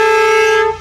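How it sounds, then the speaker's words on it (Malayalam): A hand-cranked horn on a multi-day Amazon river boat near Iquitos, Peru, gives one loud, close, steady tonal blast under a second long, fading at the end. "ഈ കാണുന്നതാണ് നമ്മുടെ ഹോൺ കേട്ടോ."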